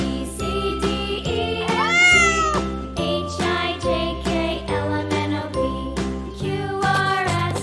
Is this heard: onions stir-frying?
no